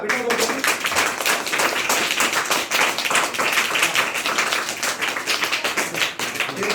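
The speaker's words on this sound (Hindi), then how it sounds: "जोरदार तालियां बेटा" Loud, brisk clapping from a group of schoolchildren and adults for a student at a yoga certificate event, dense irregular claps continuing steadily, with some voices mixed in.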